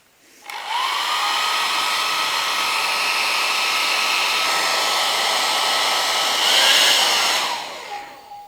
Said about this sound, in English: Okay, so I take my hairdryer here.